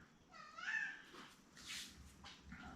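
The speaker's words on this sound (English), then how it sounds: "My cat is wanting attention this morning." Domestic cat meowing for attention indoors in the morning, several close, drawn-out meows with rising and falling pitch over a faint background hum.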